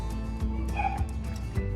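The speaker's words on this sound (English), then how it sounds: "Y'all might hear my dog because he's been hearing me cook my food." A dog whines and yips for food in a home kitchen, a few short high whimpers and soft barks at moderate distance, fairly quiet over a low background.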